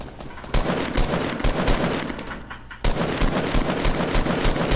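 Rapid automatic gunfire from a video game, with dense, continuous bursts of shots in quick rhythm that stay loud and close throughout, with one brief pause and no talking.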